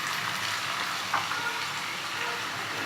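Finely chopped onions frying in two spoons of oil for keema masala, a steady, even sizzle with a faint stir partway through, close and continuous with no talking.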